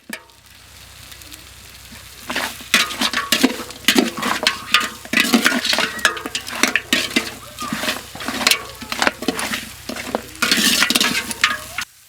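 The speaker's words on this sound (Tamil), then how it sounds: "கறி அடி பிடிக்காம நல்லா வணக்கிக்கலாம்." Goat head meat sizzles and hisses in a hot pot while a utensil stirs and scrapes in quick, irregular strokes; no voices.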